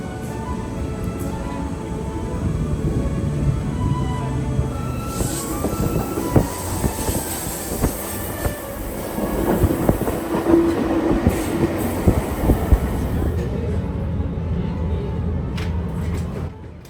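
RER B suburban train pulling into the Massy-Palaiseau terminus in Essonne, a steady loud rumble of rolling cars with rail clatter and brief wheel squeals, filling the whole stretch with no talk.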